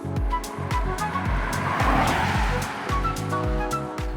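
A Mercedes-Benz E350d's 3-litre straight-six diesel, rated at 286 horsepower, accelerates hard, with a loud, close engine drone broken by rapid, regular pulses, like quick gear changes or throttle surges.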